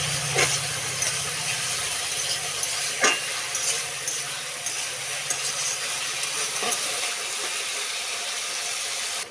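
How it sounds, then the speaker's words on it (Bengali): Potatoes with salt and turmeric fry in hot oil in a pan, a steady close sizzle and hiss carrying on throughout, with a few scrapes of stirring. "ভালো করে ভাইজা নিতে লাগবে"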